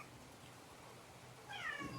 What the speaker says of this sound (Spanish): el gato mío que está por ahí molestando